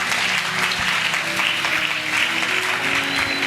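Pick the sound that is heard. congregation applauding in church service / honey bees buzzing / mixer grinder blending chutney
congregation applauding in church service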